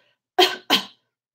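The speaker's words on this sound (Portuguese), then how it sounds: "Então você tosse com um pouco mais de suavidade" Two soft, short coughs in close succession from a person, a gentle cough used in place of throat clearing, alone with no talk around them.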